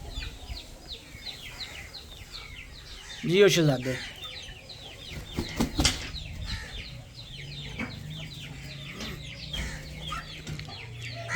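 Roosters and hens cluck and squawk close by in an irregular scatter of calls, with one louder burst partway through, while someone talks over them.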